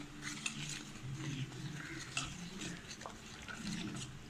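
Amrutham nutrition powder being stirred with water in a metal vessel, a spoon scraping and clinking against the sides in steady, close circular strokes with faint liquid swishing.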